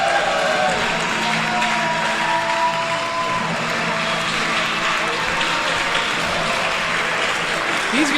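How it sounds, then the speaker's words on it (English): A wrestling crowd in Crown Point gives a sustained ovation after a match, with steady loud applause and cheering filling the arena from start to finish and faint voices mixed underneath. "listen to this crowd in ovation for the fighting spirit"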